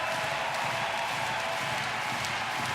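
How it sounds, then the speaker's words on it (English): A handball crowd at a men's world championship match between Korea and Germany cheers loudly, a steady roar of voices and applause that fills the arena without a break. "you can hear the cheers from the crowd"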